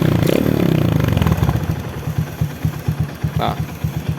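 A Honda Supra X motorcycle with a 140cc bore-up engine starts and settles into a close, even idle with a steady low thumping putter, a brief rev at the start and a voice speaking over it.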